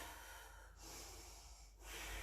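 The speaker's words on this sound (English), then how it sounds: "Ujjayi breathing." Slow ujjayi breathing in a yoga class, a soft, hissing oceanic breath through the throat, heard close as two long airy strokes separated by a brief pause.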